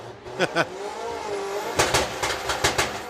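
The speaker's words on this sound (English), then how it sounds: "Simon's again trying to get used to the launch control on the Golf as he goes very close to the wall at the top end" A VW Golf drag car launches with launch control on a drag strip at Santa Pod Raceway. Engine revs rise, then several sharp bursts and pops follow as it pulls away, with talk over the noise.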